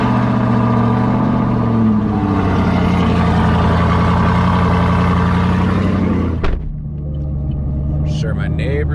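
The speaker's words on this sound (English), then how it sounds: "Just starting up the Camaro." A Chevrolet Camaro engine in a cold start, a loud, deep, steady rumble close by that drops suddenly near the end to a quieter low hum, with brief clicks afterward.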